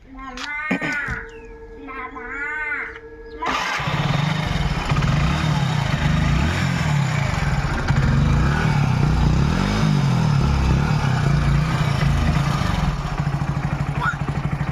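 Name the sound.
Hero HF Deluxe motorcycle engine started and running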